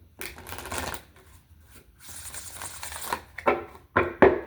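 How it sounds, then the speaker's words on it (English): Close-up shuffling of a deck of tarot cards, several bursts of riffling and sliding, ending with a few sharp snaps as the cards settle. "Being led to shuffle once more."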